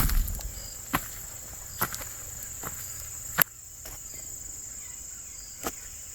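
Insects chirp outdoors beside a newly planted deer food plot near a pond, a steady high-pitched buzzing drone with several faint crunchy footsteps or clicks scattered over it.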